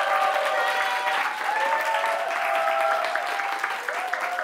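Audience applause and cheering at a small live band concert in a Korean studio venue, following a drummer's introduction; steady, dense clapping that fills the room, with sustained tonal sounds threaded through it.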